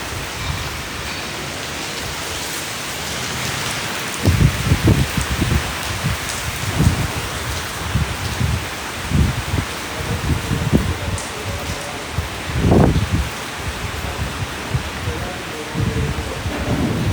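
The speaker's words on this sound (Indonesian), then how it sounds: "Hujan." Steady heavy rain pours down in Singapore, a dense continuous hiss, with low rumbling thuds of thunder rising through the middle and near the end, and no talk.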